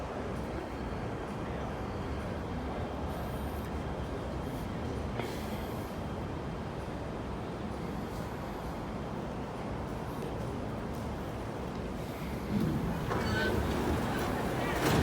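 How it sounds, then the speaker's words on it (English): An MTR K-train rolls into Lai King Station, its steady broadband rumble filling the platform throughout and swelling slightly near the end, with faint station chatter in the background. "Oh, more K trains."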